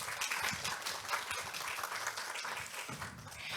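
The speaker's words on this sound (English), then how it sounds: "Let's give a round of applause to welcome Mr. Dennis Lustico from the Philippines" An audience at a Hong Kong fashion summit panel discussion claps in a dense, sustained round of applause welcoming a panelist, steady and fairly close throughout the short stretch.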